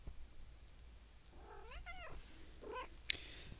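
A domestic cat meows indoors, a few rising and falling calls in the middle, faint and close, with no talking.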